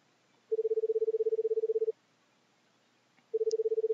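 An in-game phone in The Crooked Man rings in two electronic bursts of rapid pulsing tones, a long ring followed by a pause and the start of another, clear against near silence.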